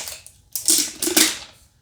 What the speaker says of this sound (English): There's a little plastic thing on it. I just have to rip off here.